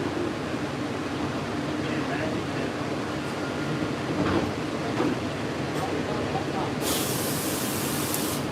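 Walt Disney World monorail ride at Magic Kingdom, a continuous rumbling hum of the moving car with a hiss of air, while a person talks over it.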